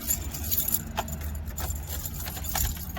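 Metal car keys jangle close by in several quick, light clinks during work on a car, over a low mechanical rumble.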